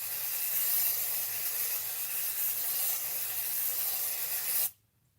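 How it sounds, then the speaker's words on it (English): Smith & Colt Instant Recall Invisible Powder setting spray hisses from the can in one long, steady, close spray of about four and a half seconds, then cuts off abruptly into silence. "we're going to use this Smith & Colt Instant Recall Invisible Powder Setting Spray"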